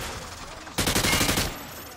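A private fires an automatic weapon through light cover in Modern Warfare 2, a loud, close burst of rapid shots lasting under a second after a quieter lead-in, with a voice faintly present.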